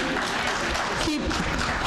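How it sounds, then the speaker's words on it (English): An audience claps continuously in a township debate hall in Howell, New Jersey, a dense steady wash of applause throughout with voices mixed in. "Save your applause"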